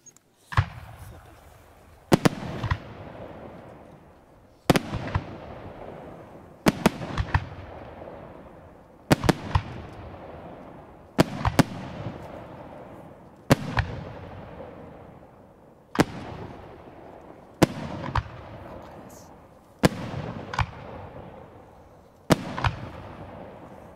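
A steady series of about a dozen 2.5-inch Blackboxx Super Assorted 1 firework shells bursts at regular intervals, each sharp boom trailing off in crackle and echo outdoors.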